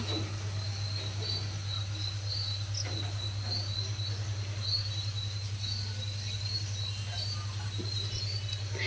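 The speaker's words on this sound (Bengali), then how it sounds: "এই দেখো ঝিঝি পোকার আওয়াজ" Crickets chirp at night outside a rural resort in a continuous, even chorus, a steady shrill trilling that fills the quiet air with no voices.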